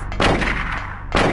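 Two sharp, loud shots about a second apart, each with a bright crack and a ringing tail, as video game gunfire in Silent Hill on PS1 during the fight against Cybil.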